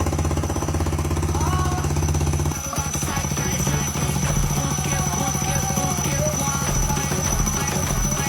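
A motorcycle fitted with a dry clutch runs close by with a rapid, hammering idle and a steady high whine, the rhythm shifting briefly partway through as people talk nearby.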